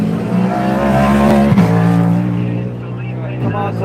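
GT3 race cars roar past at the Rolex 24 at Daytona, IMSA WeatherTech endurance racing, with loud, sustained engine drones that shift pitch as the cars pass close by, one engine note dropping sharply midway.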